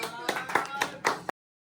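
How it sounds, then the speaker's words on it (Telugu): A few people clapping at a birthday cake cutting, a short, ragged burst of close hand claps with voices mixed in, ending abruptly. "క్లాప్స్ కొట్టండి."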